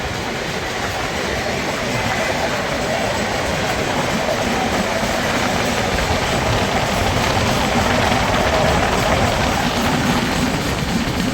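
An unnamed train passing close by near Vindhyachal, a loud continuous roar of wheels and wagons rumbling steadily past without a break for the whole stretch.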